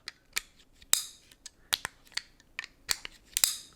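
An action camera's removable lens cover clicks and twists as it locks and unlocks: a string of crisp, close plastic clicks and snaps, irregularly spaced over a few seconds, fairly quiet with no talk.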